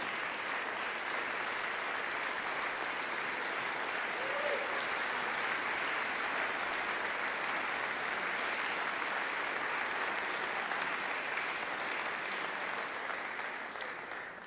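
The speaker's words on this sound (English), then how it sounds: "So let's give them a round of applause." Applause from an audience at a late-night community event honoring two soldiers, a long and even wash of clapping that holds steady for about fourteen seconds before easing slightly at the end.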